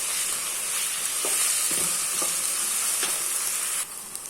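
Ginger garlic paste sautéing with onions in a pan for onion rice, giving a steady close sizzle with a few stirring scrapes, no voices.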